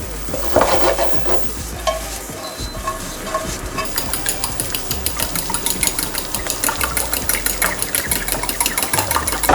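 Leftover pizza fries in its own cheese and meat fat in a pan, first with soft clinks and scraping, then a fast, rhythmic stirring that clatters over a close, crackling sizzle.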